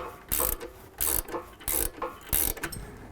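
Ratchet wrench tightening a 13mm bolt while installing Havoc HS3 black hoop steps on a Ford F-150 SuperCrew, four close bursts of rapid clicking with short pauses between strokes.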